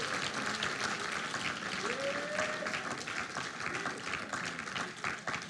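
A church congregation applauds in praise, sustained clapping and crowd noise filling the room, with a faint sung note drifting underneath.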